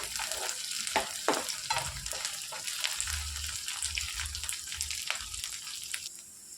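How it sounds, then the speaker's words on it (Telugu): Ginger garlic paste frying in a brinjal and green peas curry base, a steady close sizzle broken by repeated scraping stirs of a spoon against the pan. "మొత్తం ఇందులోని కలిపేసుకొని ఫ్రై చేసుకోవాలి"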